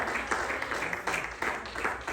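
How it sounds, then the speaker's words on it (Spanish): Church congregation clapping for the Lord during a worship service, steady rhythmic hand claps in unison filling a reverberant room, with no voices standing out. "Denle palmas al Señor"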